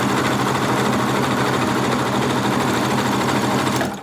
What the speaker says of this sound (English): now you're going to do the bottom. Same thing, except for no extra piece of fabric in this part. So straight across